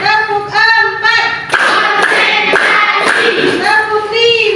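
A class performs a rhythmic clapping routine in a lesson, with short bursts of claps separated by brief gaps and a voice singing or chanting between and over them, close and loud.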